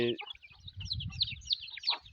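A small chicken being hand-fed by a child gives soft, high, rapid clucks and chirps in short bursts, close by, with quiet low background noise and faint voices underneath.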